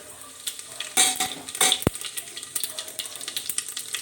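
Cumin, asafoetida and a small piece of cinnamon crackle in hot mustard oil in a cooker, with bursts of sizzling and clattering stirring around the middle and a sharp metallic knock, close and fairly loud, no talking.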